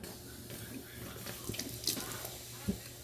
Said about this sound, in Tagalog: Umaapaw yung tubig